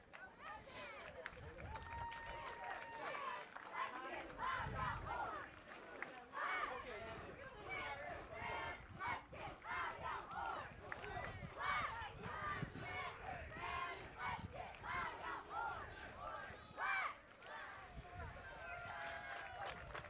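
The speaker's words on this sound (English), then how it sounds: "The Oregon cheer squad is firing up the crowd." At a boys' high school soccer regional final, Oregon's cheer squad rallies the crowd with rhythmic chanting and shouts, a steady pulsing roar of many voices from the stands.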